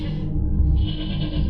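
A goat-like bleat, used as an eerie sound effect, drones loud and wavering for over a second, layered over a low, rumbling background with no speech.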